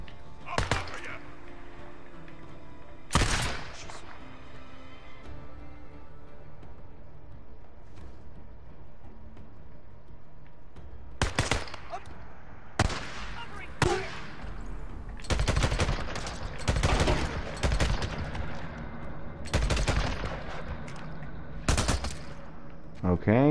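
Sharp bursts of gunfire in the video game Days Gone crack out in scattered clusters, some single shots and some rapid volleys, loud and close, separated by quieter stretches.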